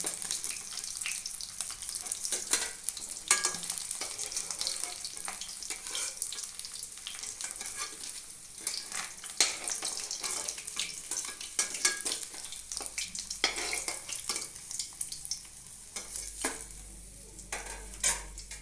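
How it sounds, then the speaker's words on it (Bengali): The remaining Nadosh fish fry in a wok of mustard oil with a continuous moderate sizzle, punctuated by frequent clicks and scrapes of a utensil turning the pieces. "এবার বাকি মাছগুলো ভেজে নিচ্ছি।"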